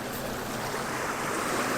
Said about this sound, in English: And obviously the bigger the boat, the bigger the waves.